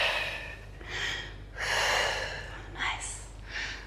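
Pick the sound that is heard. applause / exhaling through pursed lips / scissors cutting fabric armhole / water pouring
exhaling through pursed lips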